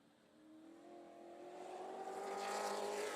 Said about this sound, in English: This, of course, is Colin Allman in the race car engineering number 67.